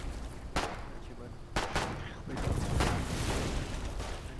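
A mortar tank firing in the war game Foxhole, with several sharp booming shots in sequence and a rumbling, mid-level battle din between them.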